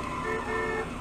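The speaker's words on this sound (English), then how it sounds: "Oh, I can honk." A car horn in the Crazy Taxi video game sounds as one short, sustained honk, loud and close, over game engine and road noise.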